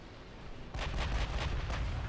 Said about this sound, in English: Reine Blanche firing at the only unidentified ship